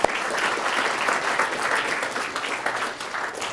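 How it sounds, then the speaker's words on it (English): Audience applause for volunteers heading up on stage during a math lecture show, a brief burst of dense, fairly loud clapping that holds steady throughout. "let's give these volunteers a nice round of applause"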